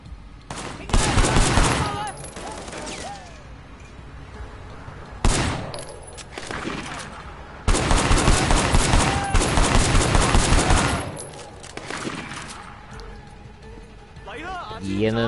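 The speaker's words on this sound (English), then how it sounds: "I think these handguns kill them faster than the machine guns do" Handguns firing in the Sleeping Dogs video game, several loud bursts of rapid shots separated by short pauses, with someone talking over the gameplay.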